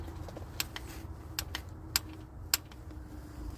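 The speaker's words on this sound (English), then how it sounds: "When it gets to the right tightness, you should hear this clicking sound." A torque wrench on a 2019 Ram 1500 Classic water pump job gives a handful of sharp, separate clicks spaced about half a second apart, close and crisp over quiet garage background.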